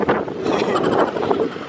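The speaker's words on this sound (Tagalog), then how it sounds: "Okay, malakas ang hangin." Strong wind buffeting the microphone in Taiwan, a loud continuous low rumble and roar with no pauses.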